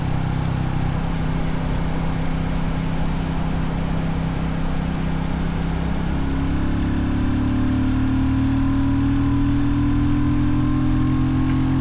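A Royal Enfield motorcycle engine with a modified intake, running steadily and loud with a rough, gravelly timbre, its pitch rising slightly about halfway through as the revs increase.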